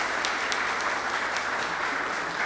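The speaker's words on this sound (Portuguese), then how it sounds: "Aí, uma salva de palmas para os nossos amigos." Crowd applause at a men's church gathering, dense steady clapping from many hands filling the room, sustained and fairly loud for the whole moment.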